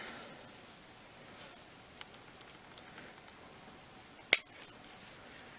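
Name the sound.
scissors clipping dead orchid roots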